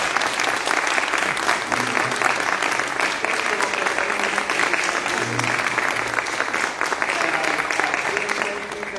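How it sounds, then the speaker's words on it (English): A warm, sustained round of audience applause for two bands at a concert, dense and even throughout, with faint voices beneath. "let's give them a warm round of applause"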